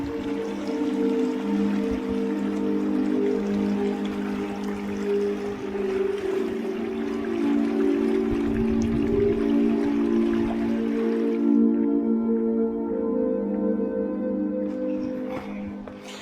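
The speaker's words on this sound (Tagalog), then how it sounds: "Sarap ng tunog ng tubig oh." Water flowing in a stream along a walking trail, a steady broadband rush that runs without pause, fairly close, and drops away slightly near the end.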